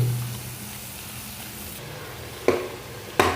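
Fish and eggplant fry in hot oil in a pan, a steady soft sizzle with a couple of sharp spatter bursts near the end.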